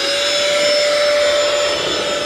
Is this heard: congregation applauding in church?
no